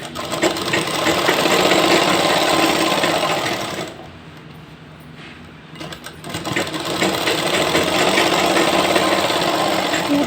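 A sewing machine stitches elastic onto a ladies' pant, its needle running in a steady, loud mechanical whir that pauses briefly midway, then resumes at full speed.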